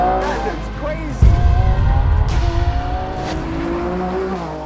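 A 1,015-horsepower Lamborghini Revuelto V12 revs with a sudden loud bark, then holds a rising, howling engine note up close while people talk over it.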